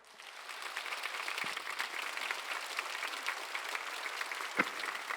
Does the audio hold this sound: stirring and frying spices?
no